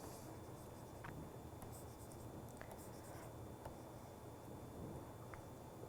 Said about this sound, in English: I am going to erase this